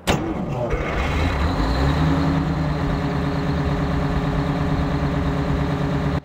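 Big Bud tractor with a Detroit engine idling in Farming Simulator 17, a steady loud low rumble with strong harmonic drone throughout, starting abruptly after a brief startup burst and holding unchanged to the end.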